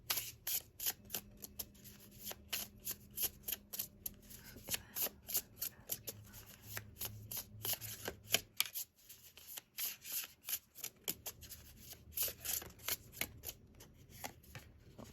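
Tarot cards shuffled by hand up close, a quick run of crisp riffling flutters and soft slaps repeating in bursts with short pauses between, over a faint low background hum.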